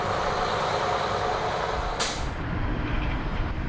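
A heavy semi-trailer truck, 41,800 kg on 22 wheels all fitted with disc brakes, rumbles loud and close in a steady broadband roar, with a brief sharp hiss of air near the middle.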